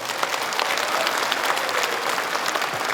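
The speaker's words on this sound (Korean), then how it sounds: "의원님들한테 박수 좀 보내주시기" A crowd at a forum on bringing the 2025 APEC summit to Gyeongju applauds provincial and city council members, producing a dense, continuous wash of clapping at an even level.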